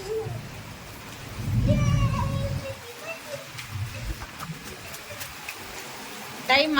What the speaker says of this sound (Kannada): ಸಖತ್ ಮಳೆ ಬರ್ತಾ ಇದೆ